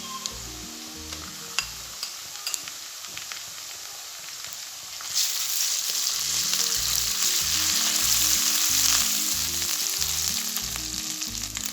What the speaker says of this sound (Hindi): अदरक लहसुन का पेस्ट हमारा फ्राई हो चुका है।